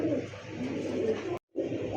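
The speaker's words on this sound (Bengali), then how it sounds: "তো দর্শক এই মুহূর্তে দেখতে পাচ্ছেন এত সুন্দর একটা শর্ট পেস কবুতর" Short face pigeons coo in a low, soft, continuous murmur, close by, with a brief silent break near the end before the cooing resumes.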